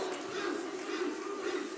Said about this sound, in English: the contingent from Calgary, Alberta, chanting their good friend's name